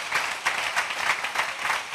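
A congregation at a prayer meeting of APC ministry in Bitragunta claps loudly and steadily, a dense, even roar of many hands with a loose rhythmic pulse and no voices.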